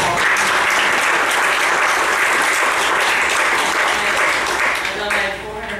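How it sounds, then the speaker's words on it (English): Sustained audience applause at a county fiscal court meeting, dense and steady throughout at close range, tapering slightly at the very end, with some voices mixed in beneath the clapping. "And I think Teresa deserves a round of applause."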